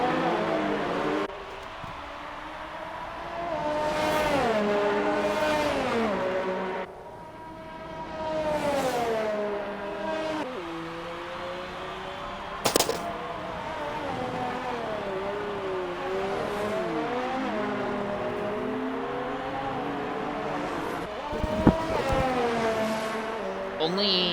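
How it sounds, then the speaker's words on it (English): Race cars lap a circuit at Abu Dhabi during an XRL X3 session, several engines rising and falling in long sustained whines, some passing closer, with a commentator talking over the continuous engine noise. "Only about 4 cars out on the circuit right now"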